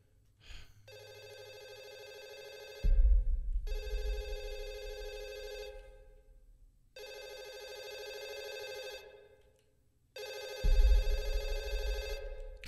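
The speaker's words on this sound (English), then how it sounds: "Phone's ringing." Telephone ringing in the horror video game Fatal Midnight, four long electronic ring bursts separated by short pauses, fairly close and clear, with low rumbling ambience underneath.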